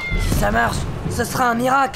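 A cat named Gérard meows in short, close, drawn-out cries, overlapping someone talking.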